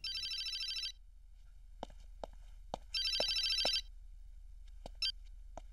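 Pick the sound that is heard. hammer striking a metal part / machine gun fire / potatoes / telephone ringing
telephone ringing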